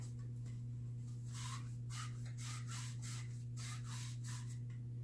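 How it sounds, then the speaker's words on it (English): A green Scotch-Brite pad scrubs paint from the top of an unopened aluminum can for an alcohol stove, giving a faint, steady rubbing rasp in repeated strokes over a low constant hum. "I like to remove the paint from the part of the can that's going to show in the finished alcohol stove"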